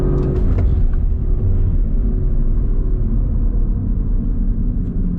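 An Audi RS4 Competition on the road, heard from inside the cabin: a deep, steady engine rumble and drone under load, loud and continuous with little variation.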